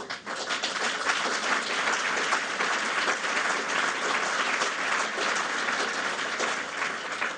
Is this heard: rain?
no